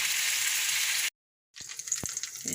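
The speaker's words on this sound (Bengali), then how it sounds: "কড়াই তেল, তেজপাতা, শুকনো লঙ্কা আর গোটা জিরে আর দারচিনি দেওয়া হয়েছে।" Bay leaf, dried red chilli, whole cumin and cinnamon sizzle in hot oil in a wok, a loud steady frying hiss that cuts to silence briefly, then resumes with a few clinks and stirring knocks.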